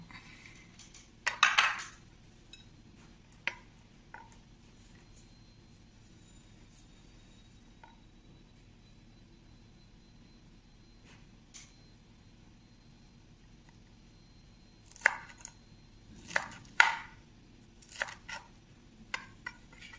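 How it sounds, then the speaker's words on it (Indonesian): Knife chopping pineapple and water apple: a few scattered sharp clicks and taps against a board, in short clusters near the start and end, over a quiet steady background hum. "ini nanas sama jambu air aku siap potong-potong ya"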